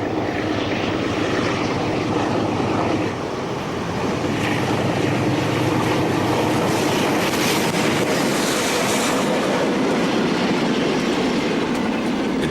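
Portuguese Railways 1500 class diesel locomotive hauling a train, a loud sustained engine roar with rumbling wagons, close and continuous, no voices.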